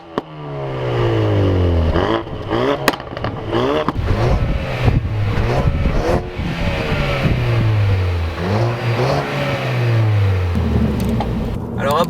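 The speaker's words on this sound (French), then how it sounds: "deux voitures avec deux moteurs différents et du coup deux sons moteurs complètement différents" A Ford Focus ST or Focus RS sports car engine revs up and down in repeated rising and falling sweeps, loud and close, with a steady rumbling drone throughout.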